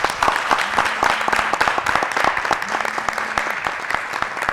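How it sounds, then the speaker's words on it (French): An audience at a live summer game-show event claps loudly and continuously, many hands beating in a dense, crisp stream, with faint musical tones underneath. "On va l'inviter ici sous vos applaudissements"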